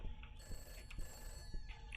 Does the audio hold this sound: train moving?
no